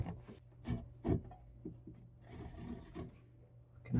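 Hand sawing wood up close while making a sawhorse, a few uneven rasping strokes with pauses between them, fairly quiet.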